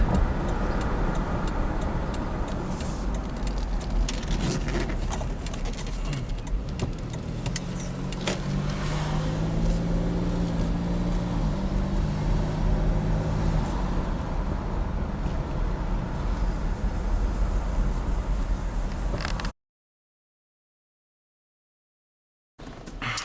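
A Pontiac Bonneville cruises on cruise control with a steady road and engine drone, loud and continuous for about twenty seconds before cutting to silence, with a brief return at the very end.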